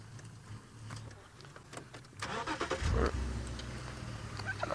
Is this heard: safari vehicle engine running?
yes